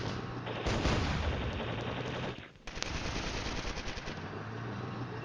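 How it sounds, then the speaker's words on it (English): Dense, loud gunfire and bombardment from the Cold War wargame Flashpoint Campaigns: Southern Storm, with sustained machine-gun bursts and volleys rolling continuously, one brief dip in the middle before the fire resumes. "There's plenty of fire in Westhausen."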